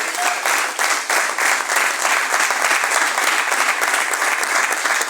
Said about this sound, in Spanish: Un aplauso al Rey de Gloria.